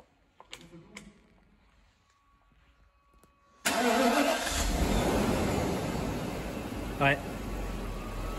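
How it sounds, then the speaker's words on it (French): A Mercedes S500 V8 cranks briefly and catches with a sudden loud start, then settles into a steady, deep idle with a slight blip partway through, following a few quiet clicks and handling sounds. "Après, si tu veux juste démarrer rapidement pour entendre le V8."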